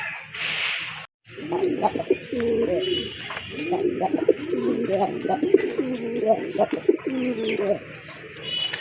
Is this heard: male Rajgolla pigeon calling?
yes